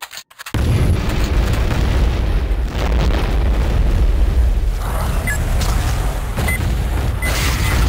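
A nuke detonating in a video game sets off a sudden massive boom that rolls into a sustained, loud roaring rumble lasting several seconds, alone without speech.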